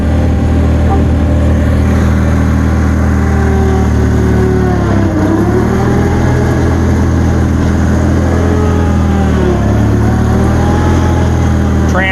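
A Bolens 2000 lawn tractor engine runs steadily in low gear, a loud continuous close drone with slight pitch dips, heard alone without talk.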